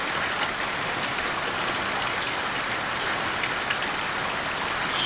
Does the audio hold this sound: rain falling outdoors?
yes